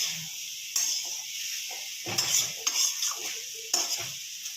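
Fried potatoes are stirred in a pan for a home-cooked Bengali niramish mochar bhorta, with close metal scrapes and clanks over a soft steady sizzle.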